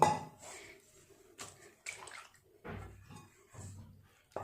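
Clean water poured over chhena cheese curds in a cloth to wash them: several short, close splashing pours come in bursts with brief pauses between, at a low overall level.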